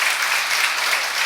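Congregation clapping in a church during a Sunday service, a dense, steady wash of applause from many hands, loud and close, with no talking over it.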